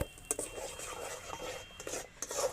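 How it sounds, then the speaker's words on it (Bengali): Sugar being stirred as it melts in a pan, heard as faint scraping and soft rubbing strokes with a couple of light clinks, quiet and close. "চিনিটাকে এইভাবে নাড়াচাড়া করতে হবে"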